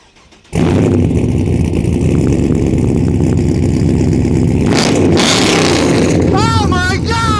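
A rear-wheel-drive Holden Statesman with LS V8 power bursts into a loud, sustained rev that holds steady, then a voice whoops over the roaring engine near the end.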